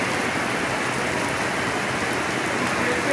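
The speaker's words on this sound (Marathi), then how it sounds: "मस्त पाऊस पडतो आहे" Heavy monsoon rain pours outside Vashi railway station in Navi Mumbai, a dense, even hiss of downpour that stays steady and loud with no talking.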